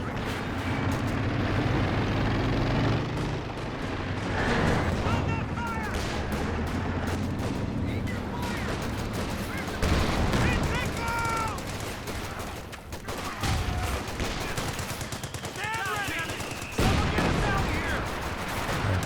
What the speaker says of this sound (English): Time on target on the howitzer.